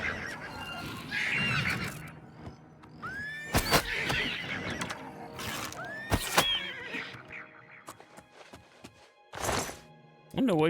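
Horse neighing in Elder Scrolls IV: Oblivion Remastered, with several sharp whinnies and squeals standing out over ambient game sound, mixed with a few thuds and hoof clops, close and fairly loud.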